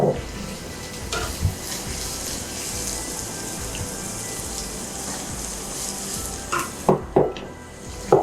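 Sliced onions sizzle in hot oil in a pan while cooking tapioca biryani, a steady close frying hiss with crackles, ending in a few sharp clicks from stirring.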